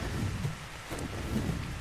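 Steady rain falls in the video game ARK: Survival Evolved on the Crystal Isles map, a soft continuous wash of drops with low rumbling underneath, fairly quiet and unbroken, with no voices.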